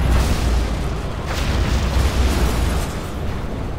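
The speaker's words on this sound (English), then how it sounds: "Cruise missiles ready. Arming cruise missile." Cruise missile detonation in Command & Conquer Generals Zero Hour, a dense sustained explosive roar with deep rumbling booms that continue at steady loudness without a break.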